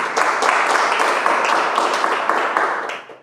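Audience applause at a NASA business opportunity presentation, dense crowd clapping that holds steady and loud for about three seconds, then fades out at the end.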